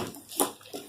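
Water is forced by a small plunger through the chute of a portable toilet, giving a brief gurgling splash and slosh, close and quiet, with a second smaller gush after.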